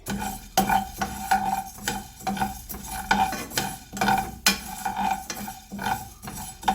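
Coriander seeds being stirred and dry-roasted in a pan for a mutton curry, giving repeated scraping strokes of a spoon against metal with a faint sizzle, close and steady, with no voices.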